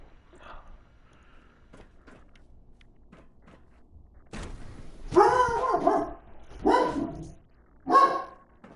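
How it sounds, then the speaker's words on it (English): A pet dog barks several times in loud, close bursts after a quieter stretch, reacting to someone passing by a door indoors. "Sorry guys, that's my dog."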